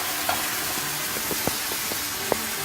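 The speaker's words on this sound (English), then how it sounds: "and just let it sizzle for a couple of seconds" White wine is poured into a hot frying pan with browning chicken and hisses in a soft, steady sizzle. A few faint clicks of stirring sound close by, and no one talks.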